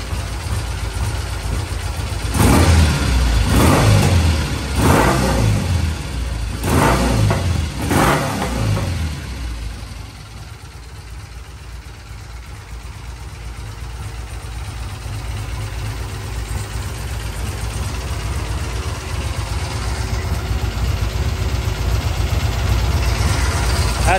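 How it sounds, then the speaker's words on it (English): A vintage British motorcycle engine idles at a steady 900 RPM, a low continuous rumble heard close up, with a few revs early on before it settles into an even idle. "That's a nice steady 900 RPM idle."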